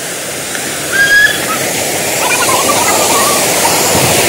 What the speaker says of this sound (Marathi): विटेच्या पुढे हा एक खूप सुंदर असा धबधबा आहे